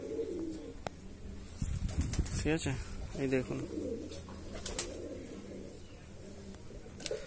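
Andhra Madrasi pigeons kept as a hobby flock, cooing in soft repeated rolling calls close by, while someone talks over them.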